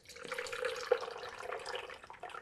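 Sous vide pork belly cooking liquid trickles and pours steadily for a couple of seconds, a soft continuous splashing with a brief louder drip partway through.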